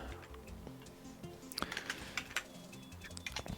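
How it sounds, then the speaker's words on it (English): Quiet clicks of a computer keyboard being typed on, irregular taps that grow busier and more clustered midway, close and faint with no talking. "I'm just gonna type unregister dealloc"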